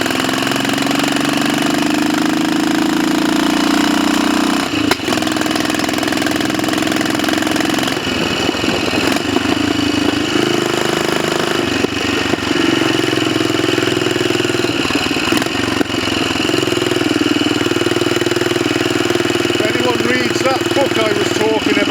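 A Royal Enfield 500 Bullet 'Trials' motorcycle with its ignition timing advanced runs loudly and continuously through a test ride, its engine note rising and falling with throttle changes, and a person talks over it.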